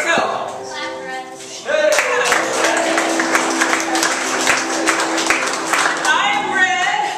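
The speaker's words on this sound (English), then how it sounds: "Clap for us." Audience applause for a troupe of improv performers after their introductions at a live show, a dense, steady clapping that swells in about two seconds in and carries on, with speech heard before it and faint cheering mixed in.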